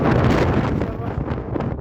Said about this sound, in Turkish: şu an görmüş olduğunuz gibi baya bir rüzgar var